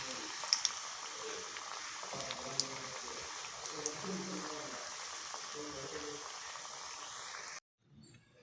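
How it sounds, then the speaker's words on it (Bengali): Kheer gaja sweets fry in a pan with a steady, soft sizzle of hot oil and occasional clinks, while a person talks over it. The sizzle cuts off abruptly near the end. "এরকম করে ভেজে নেবো উল্টে পাল্টে"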